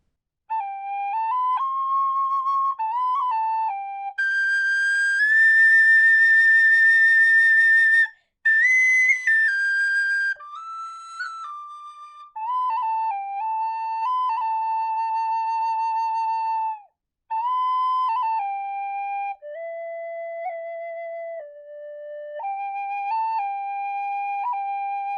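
A tin whistle plays a long section of the Braveheart theme solo, clear sustained notes with ornamented flicks, brief breath pauses and a strong high passage early on, close and unaccompanied.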